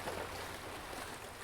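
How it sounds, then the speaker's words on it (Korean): Ocean waves wash against rocks below a seaside cliff village in Yeongdo, Busan, a soft continuous surging hiss heard faintly from a lookout above the beach. "정만혁 씨가 해변 마을 전망대에서 파도 소리를 녹음한다."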